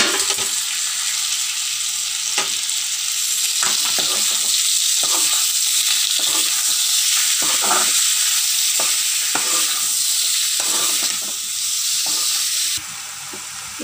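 Tomatoes sautéing in a hot pan for a quail egg pepper fry, a loud constant sizzle with regular spatula scrapes and taps every second or so, and no speech.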